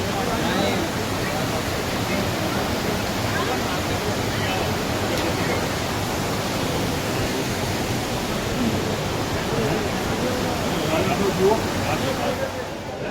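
Hot spring water on the Yamunotri route rushes and splashes continuously at a steady, fairly loud level, like a strong flow pouring without pause.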